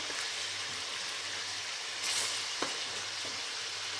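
Chicken frying in oil for Peshawari charsi chicken karahi, a steady close sizzle with a few small pops and clicks of stirring, no voices.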